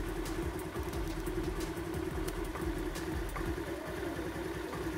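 A Honda Activa scooter engine idles steadily with its carburetor being adjusted, a continuous, even mechanical hum with a low throb that stays constant and close throughout, with no talking.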